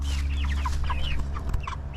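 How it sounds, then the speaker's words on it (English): Backyard meat chickens cluck in repeated short calls close by, a dense flock chorus over a steady low hum, with no voices. "I have my chicken. These are my meat bird this year."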